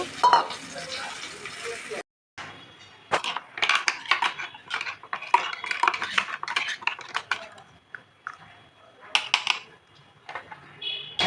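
A spoon clinks and scrapes against a bowl while cumin, mustard and green chili paste is stirred with water for an ilish-begun dish, in irregular close bursts with short pauses.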